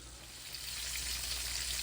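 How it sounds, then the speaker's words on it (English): Pieces of fish frying in hot oil, alongside fried shrimp and green tomatoes, give a steady, dense sizzle that holds evenly throughout without any voices. "We got a couple more pieces of fish still frying"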